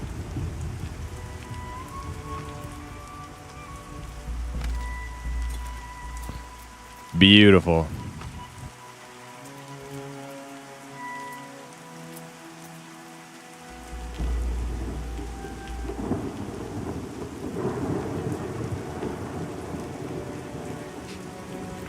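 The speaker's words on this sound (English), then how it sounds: "Rain is going to put me to sleep." In-game rain from Pantheon: Rise of the Fallen patters steadily for the whole stretch, with a short sharp burst in the middle, and a person talks briefly over it.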